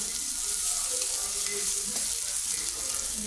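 Fried taro greens with chickpeas being stirred with sugar in a pan, a constant soft hiss of frying with faint scraping of the spoon, no talking.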